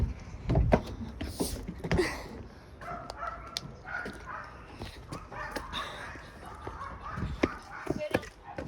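A dog barks and yips several times in short bursts at an old royal tomb site in Amasya, mixed with people talking and laughing nearby.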